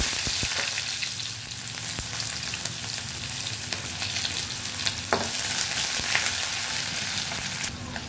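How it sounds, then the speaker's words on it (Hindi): Onions frying in oil in a kadai after cumin seeds, a steady broadband sizzle with occasional stirring scrapes, close and continuous with no talk. "प्याज को अच्छे तरीके से भूनना है जिससे कि इसका ये कच्चापन निकल जाए"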